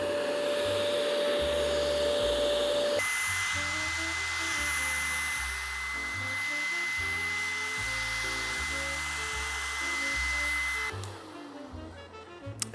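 An ECOVACS DEEBOT X12 OmniCyclone robot vacuum picking up human hair: a loud, steady motorized whir with a high whine that shifts in pitch partway through, then cuts down near the end.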